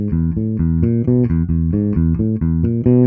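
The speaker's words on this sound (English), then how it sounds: "this is adding in a kind of rock and roll boogie woogie bass line to it" Bass guitar playing a chromatic rock and roll boogie woogie bass line on a tune, a steady, bouncing run of clean, close, evenly repeated notes with no talking.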